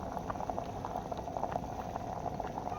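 Soup of shellfish, malunggay and alugbati with onion, lemongrass, ginger and salt bubbling steadily in a pot, a close, continuous simmer with no voices.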